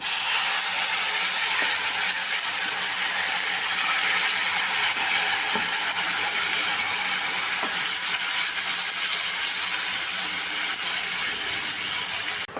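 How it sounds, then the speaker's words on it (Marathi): Ground masala paste sizzling steadily in hot oil with bay leaves and a cinnamon stick, a continuous close hissing fry that stays even and unbroken throughout, with no voices over it. "तेल सुटेपर्यंत आपण हे वाटण परतून घेऊया व्यवस्थित"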